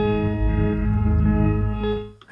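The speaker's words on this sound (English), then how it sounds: "By selecting grain size, we're gonna change how big and small the grains are." An electric guitar runs through Ableton Live's Granulator III granular effect, giving a dense, sustained, shimmering drone with wavering chorus-like grains, steady and loud before fading at the end.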